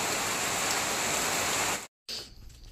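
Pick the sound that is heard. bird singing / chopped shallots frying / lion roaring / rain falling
rain falling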